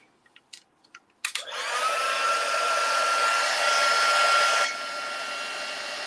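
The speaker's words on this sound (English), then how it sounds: "heat gun." A heat gun for heat embossing blows a steady, loud whooshing roar for about five seconds after a few faint clicks and handling taps, then drops to a slightly lower setting near the end.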